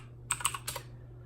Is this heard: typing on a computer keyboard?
yes